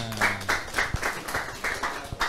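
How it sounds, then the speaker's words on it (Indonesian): Applause from an audience at a training session in Indonesia, a few irregular bursts of hand claps over about two seconds, fairly quiet, with a brief voice at the start. "Tepuk tangan."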